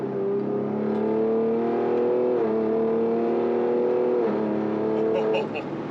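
A stage 4 tuned Ford Explorer ST engine drones steadily at high revs, its pitch holding then stepping down slightly twice, a continuous hum heard from inside with the windows up.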